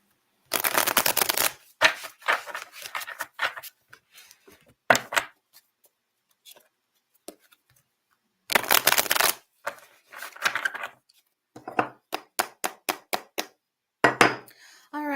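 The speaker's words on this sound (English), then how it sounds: "I'm going to shuffle these cards." Cards being shuffled up close in a series of quick riffling bursts, some long and some short, separated by brief pauses.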